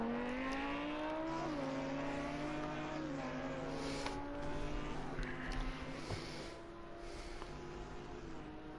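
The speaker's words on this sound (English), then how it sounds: "it sounds like one of the Porsches is going down the straight, as we could hear that distinctive engine tone" Porsche race car engine at Circuit of the Americas during pre-season practice, running down the straight: one steady, distant engine tone holding its pitch, with brief dips where it shifts gear, and no voices.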